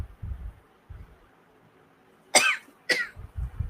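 Two sharp coughs in quick succession, close and loud, surrounded by low muffled thumps and quiet background.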